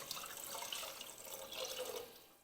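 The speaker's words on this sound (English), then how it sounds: "Then I'm going to add 4 cups of water" Water being poured into a pot to make pork noodle soup, a soft, continuous splashing and trickling heard quietly up close with no talking.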